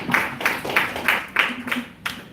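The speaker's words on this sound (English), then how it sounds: "Round of applause, everyone." Audience applause at a talk on security practices for institutional investors, a dense wash of clapping with a steady, fairly close patter and a few louder swells over about two seconds.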